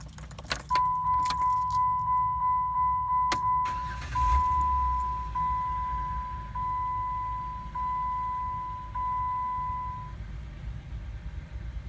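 A 2008 Jeep Wrangler JK engine cranks and starts, then settles into a low idle rumble. Keys jingle in the ignition near the start and a steady warning chime beeps along for about ten seconds.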